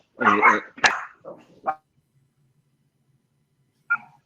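A pet dog gives a few sharp barks at close range during a podcast recording, with people talking just before the barks. A single further yip follows after a pause of near silence.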